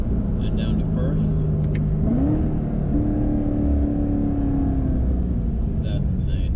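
A Corvette Z06 engine downshifts to first gear, a rev blip rising sharply and settling into a higher sustained drone over the steady loud cabin rumble.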